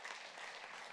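Church congregation applauding during a Spanish-language service, a faint, dense wash of clapping heard from a distance, continuous and even across the short stretch.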